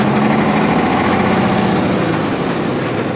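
An antique Kenworth truck engine idles with a steady, dense rumble and a fast, even ticking running through it, loud and close with no voices.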